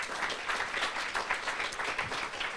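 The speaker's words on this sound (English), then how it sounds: "Please, another round of applause." Audience applause at a formal academic celebration honouring a translator, steady dense clapping from a large crowd with no voices over it.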